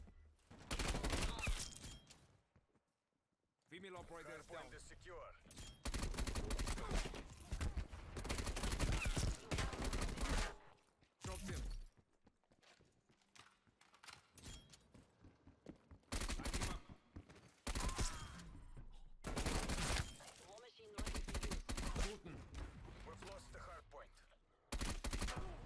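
KSP 45 submachine gun firing in a Call of Duty Cold War match, repeated loud bursts of rapid gunfire separated by short quiet gaps, with a player talking at times between them.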